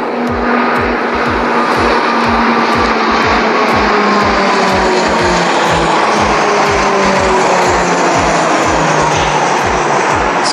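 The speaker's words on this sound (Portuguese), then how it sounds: "Esquadrilha da Fumaça aí fazendo a apresentação extra." Brazilian Air Force Smoke Squadron aerobatic propeller planes fly past near Sorocaba, a loud continuous engine roar with shifting pitch and steady rhythmic pulsing throughout, no voices.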